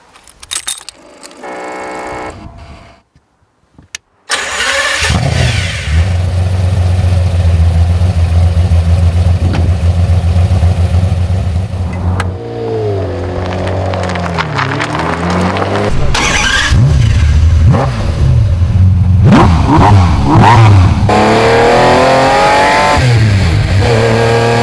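A McLaren F1 supercar from the Need for Speed racing games, its engine starting up after a few seconds, then running loud and close with a steady drone and rising and falling revs.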